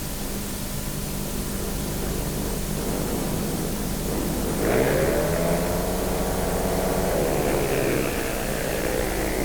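Speedway motorcycles launching at the start of a heat in a 1996 Polish team championship meeting in Kraków, their engines rising from a distant drone into a louder, climbing roar as the bikes pull away.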